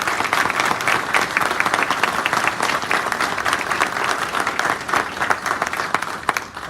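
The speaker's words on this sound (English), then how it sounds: "Please give him a round of applause." Sustained applause from the audience at a police department retirement and promotion ceremony, steady dense clapping throughout, fairly loud and close, with no one speaking over it.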